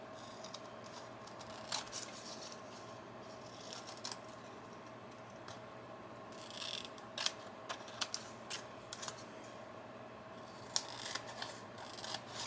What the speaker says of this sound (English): so now we're just going to trim all of the excess off